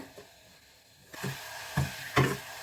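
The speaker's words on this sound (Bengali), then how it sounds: "আওয়াজটা তো বুঝতে পারছো দেখো আমি কতগুলো ভেজে নিই এখন চটপট করে" Papdi drop into hot oil for papdi chaat, sending up three short, fairly faint bursts of sizzling after a quiet opening, each fading between additions.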